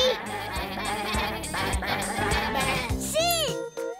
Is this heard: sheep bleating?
yes